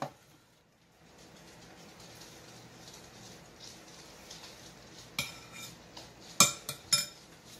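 Chicken enchilada filling being mixed with green sauce, utensils scraping and clinking in a bowl at low level, with a few sharper clinks near the end.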